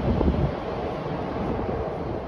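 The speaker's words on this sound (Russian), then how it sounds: "Вот такое ветрище." Strong wind gusts roaring against the microphone on a city street in Moscow, a steady broadband rush that swells louder at the start and then holds, with no talking.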